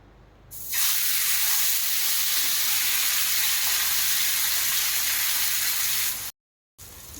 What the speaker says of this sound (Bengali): ভাজতে হবে মাছটা।